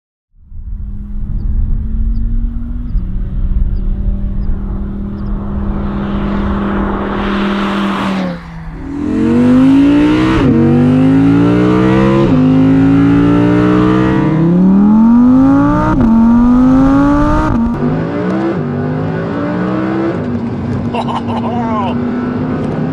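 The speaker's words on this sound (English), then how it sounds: "Number 5 was the Audi R8 V10 Performance." An Audi R8 V10 Performance supercar idles with a deep rumble, then revs and accelerates hard through several rising gear pulls, loud and close, with a person speaking over it.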